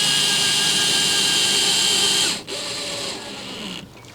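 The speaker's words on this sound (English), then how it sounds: "I'm just going to secure it with some screws" A power drill drives screws through a fan bracket into a ceiling joist, a loud steady whirring that dips briefly, resumes, then winds down.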